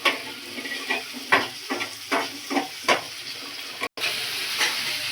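Bori lentil dumplings fry in a pan with a soft sizzle, broken by a series of scraping stirs at an irregular pace and a brief dropout near the end.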